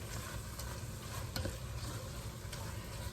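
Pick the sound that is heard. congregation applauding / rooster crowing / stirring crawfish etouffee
stirring crawfish etouffee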